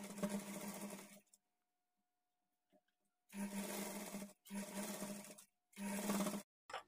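A sewing machine stitches along a blouse edge in four loud, close bursts of rapid whirring, separated by silent pauses, with no talk.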